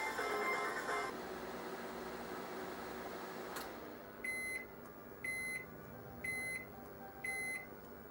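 A microwave steaming broccoli hums steadily, then its run ends and it beeps four times in evenly spaced electronic chirps.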